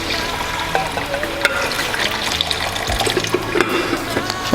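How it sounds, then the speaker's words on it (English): Cooked meat stock poured into a pot of okra soup, a continuous splashing liquid stream with sizzling and stirring noises, fairly close and steady throughout. "I'm going to pour the meat stock now"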